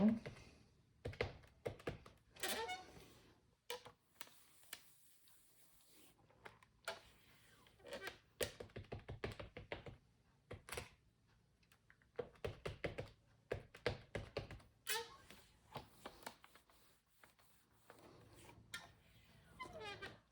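A rubber stamp taps repeatedly onto card, stamping out a scripted sentiment: scattered bursts of quick, sharp knocks close by, separated by quiet gaps, with a person speaking at times between them.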